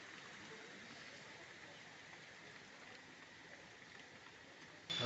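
Steady rain falling during Cyclone Dana in Odisha, a constant soft hiss of drops spreading evenly throughout, moderately faint, with a louder knock right at the end.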